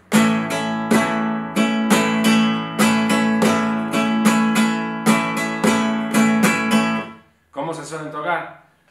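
Flamenco guitar strumming tanguillos chords in a lively, syncopated rhythm of sharp rasgueado strokes, close and bright, then a brief pause and a short flurry of plucked notes.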